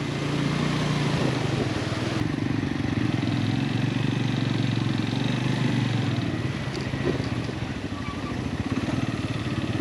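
Motorcycle riding on a road toward Taobat in the Neelam Valley, Azad Kashmir, its engine a steady close drone with wind rumble and clatter running unbroken throughout.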